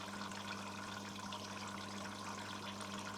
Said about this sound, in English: It might fill with a little bit of water because I've tricked the program.